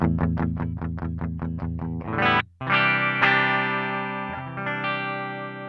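A VOX Silk Drive pedal with its gain turned down carries an electric guitar through a quick string of repeated picked chords. A brief gap follows, then sustained ringing chords with milder, cleaner distortion, and nobody speaks.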